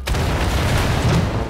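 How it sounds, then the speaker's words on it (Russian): A loud, sustained explosion rumbles in the video game Wolfenstein: The Old Blood, heavy low booming filling the whole moment with no talk over it. "Он взрывается."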